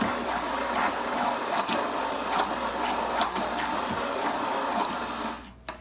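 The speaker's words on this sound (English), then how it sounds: "And then we're going to just go right through and puree" A blender purees chocolate chia pudding in a steady, continuous whir at close range, running without a break until it cuts off abruptly near the end.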